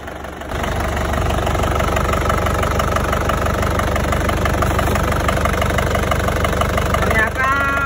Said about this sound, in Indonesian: Hidupnya kurang enak ya, goyang juga.